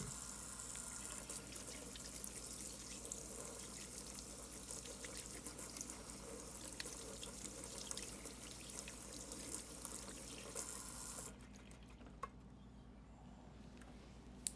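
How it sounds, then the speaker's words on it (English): Water from a tap runs steadily into a sink while hands are washed, giving a continuous close rushing and splashing. It cuts off near the end, leaving quieter drips and a few small clicks. "we gotta get set up and wash our hands"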